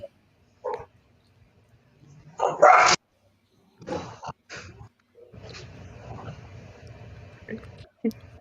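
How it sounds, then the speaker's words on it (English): A household dog barks indoors in a few sharp, loud bursts, with yips spaced over several seconds and quieter gaps between them. "That was our dog."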